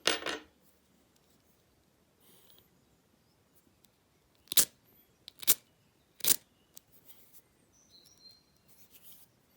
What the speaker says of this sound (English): you should be able to spark your flint by spinning the wheel